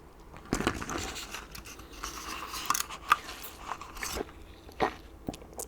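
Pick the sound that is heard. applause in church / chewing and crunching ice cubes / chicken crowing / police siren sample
chewing and crunching ice cubes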